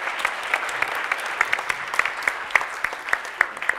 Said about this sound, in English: a big round of applause for all the nice people.